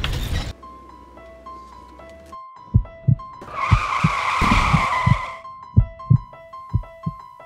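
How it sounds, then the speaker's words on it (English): A car's tires squeal in a long skid that swells loud mid-clip, set against repeated dull thumps like a heartbeat and a steady tonal drone. "The car's coming."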